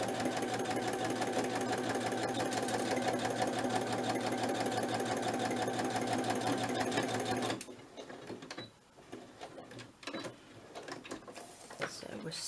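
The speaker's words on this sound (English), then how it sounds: "I'm going to sew that first because the other bit we're going to sew around anyway." A sewing machine runs steadily at close range while stitching lace onto fabric, its fast rhythmic whirr lasting about seven seconds before stopping abruptly, followed by quieter handling noises and faint talk.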